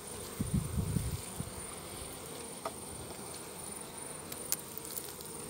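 Honey bees at a hive fitted with a queen excluder, a constant, dense, low buzz of many insects close up, with a few brief louder bursts near the start.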